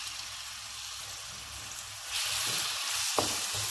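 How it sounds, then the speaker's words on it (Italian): Steady crackling sizzle of onion frying in hot oil, growing louder partway through, close and continuous with no talking. "Olio bollente, andiamo così ad aggiungere la cipolla."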